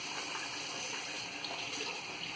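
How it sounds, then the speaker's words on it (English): Running water rinsing out a bathtub, a steady broadband rush and splash that holds at an even level throughout, close by, with no talk over it. "Just wash up the tub."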